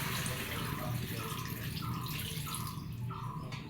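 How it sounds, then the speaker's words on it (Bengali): Water poured from a vessel into a pot of sautéed vegetables for a Bengali shukto curry, a short, close, steady splashing stream lasting a few seconds. "এখন আমি এতে ঝোলের জন্য জল দিয়ে দিব"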